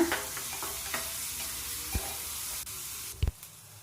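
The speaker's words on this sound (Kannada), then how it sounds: "ಇದನ್ನೆಲ್ಲ ನಾವು ಹಸಿ ವಾಸನೆ ಹೋಗೋವರೆಗೂ ಫ್ರೈ ಮಾಡ್ಕೊಳ್ಳೋಣ." Green chillies and curry leaves frying in a pan with onions, a continuous close sizzle with a few soft stirring knocks and scrapes, no talking.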